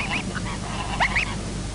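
A few pink-footed geese in the Þjórsárver highlands give short rising honks, sparse calls at first then a quick cluster of two or three louder ones, over a constant low rumble.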